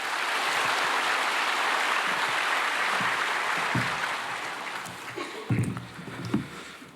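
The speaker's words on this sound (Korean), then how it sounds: "박수로 환영하겠습니다." A church congregation applauds during a worship service, welcoming a 70-year-old member forward to give testimony before a baptism. Dense, steady clapping fills the room for about four seconds, then thins and fades into a few scattered sounds.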